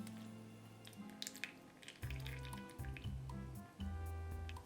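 Milk and oil poured into a dish for savoury cake batter with olives, feta and pepper, giving soft glugging and dripping liquid sounds in uneven bursts, close and quiet, with no talking.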